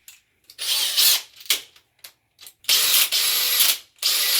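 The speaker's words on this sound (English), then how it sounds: "Now for the Makita drill" A Makita cordless drill runs in repeated bursts at high speed, each a loud whining spin-up separated by short pauses, with several quick triggers early and longer sustained runs later, close by and with no voice.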